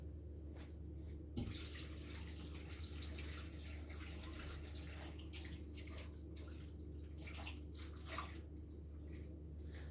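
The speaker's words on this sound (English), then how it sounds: "I'm going to add the water in now" Water pours steadily into a stew pot of scouse, a continuous low gushing splash with a few sharper knocks, fairly quiet and heard alone.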